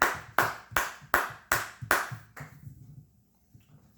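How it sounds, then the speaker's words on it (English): Six sharp hand claps in a steady rhythm, close and fairly loud, then quiet; a brief round of applause after finishing a Bible reading of three books. "Round of applause for that."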